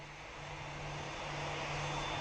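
Two aircraft engines power up for takeoff thrust in a flight simulator game, a steady broadband roar with a low hum that builds gradually, heard alone.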